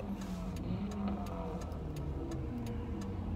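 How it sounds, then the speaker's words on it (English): Fast cars rush along a road, a steady rumble of traffic noise with a few sharp ticks, fairly quiet and continuous with no talking. "These cars are going pretty fast."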